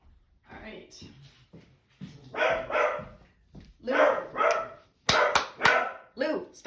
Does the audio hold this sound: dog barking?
yes